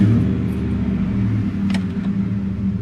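A high-mileage 2003 Dodge Ram pickup with a Hemi engine and a rattle idles steadily. A loud, close, low rumble holds throughout with no pauses.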